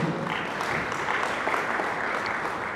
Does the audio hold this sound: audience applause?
yes